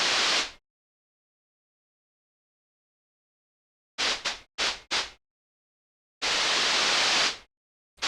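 Noise oscillator of the Ableton Operator synth, bursts of hissing broadband noise played alone: one burst at the start, a quick run of short stabs, then a longer sustained burst with clean silence between them.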